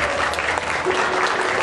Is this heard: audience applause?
yes